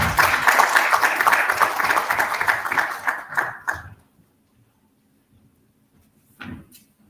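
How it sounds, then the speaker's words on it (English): An audience at a supply chain conference in India claps for a keynote speaker, a dense burst of applause that thins out and stops after about four seconds, followed by near silence and one brief clatter. "Please give him a big round of applause."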